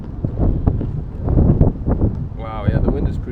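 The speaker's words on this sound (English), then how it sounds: "the wind is pretty strong, man" Strong wind on the Taehwa River in Ulsan, South Korea, buffets the microphone of a person on a stand-up paddleboard, making loud, low rumbling gusts. Someone talks over the wind.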